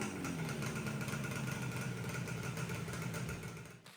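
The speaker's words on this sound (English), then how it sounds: "for the first time in 20 odd years, the bike is actually running well at last" A Yamaha RD400 two-stroke motorcycle, a barn find revived after about twenty years, runs steadily nearby with a fairly quiet, even engine burble that fades slightly toward the end.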